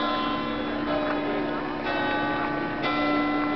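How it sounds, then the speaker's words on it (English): A church bell rings at Piazza del Duomo in Pisa, a few soft, spaced tolls sitting under a steady hum of crowd and outdoor noise with people talking. "I think that bell is telling us it's either 9 o'clock or 10 o'clock."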